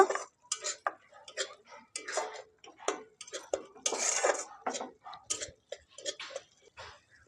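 A spatula clinks and scrapes in a pan as cumin, coriander and red chilli powders are stirred for a chicken and egg bharta, sharp irregular taps at close range and fairly quiet, with no talking.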